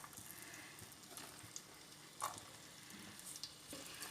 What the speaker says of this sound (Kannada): ಈಗ ಚೆನ್ನಾಗಿ ಫ್ರೈ ಮಾಡುವ